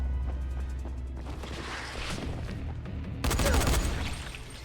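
Gunfire rings out in the video game Dying Light, a dense, crashing burst of shots rising sharply partway through over a busy game soundscape.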